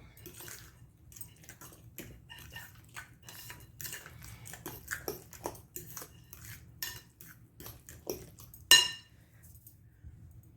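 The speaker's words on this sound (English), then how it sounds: "Let's go ahead and get that stirred up." A spoon clinks and scrapes repeatedly against a bowl while sweet potato casserole mixture with vanilla cinnamon sugar is stirred, with an uneven rhythm of soft taps and one sharper clink near the end, fairly close and quiet.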